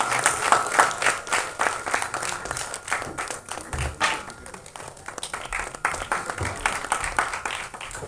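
A crowd at an album song screening festival gives sustained applause, sharp individual claps standing out within a continuous roar of hands for several seconds.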